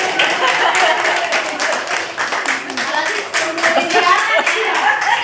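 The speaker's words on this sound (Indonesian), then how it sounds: "Tepuk tangan buat diri kita sendiri" A crowd claps and applauds steadily at a school reunion, dense overlapping hand claps filling the room, with voices mixed in beneath.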